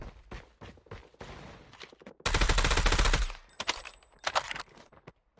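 Rapid automatic weapon fire in the mobile shooter Call of Duty Mobile, one long sustained burst in the middle flanked by shorter bursts and single shots, loud and close.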